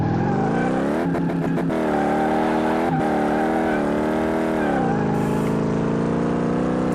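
A Chevrolet El Camino engine in Car Mechanic Simulator 2018 revs loudly and steadily, its droning pitch rising after a second, broken by a few quick gear-shift stutters, then dipping and holding at a lower tone, with no voices.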